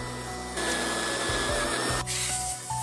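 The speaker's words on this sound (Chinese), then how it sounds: "把这个转子这个线圈外边这些生锈的也给它打磨一下" Rust is abraded off the rotor coil of an electric scooter motor with a steady, close, rasping grind that holds for nearly three seconds, pausing only briefly, with no talk.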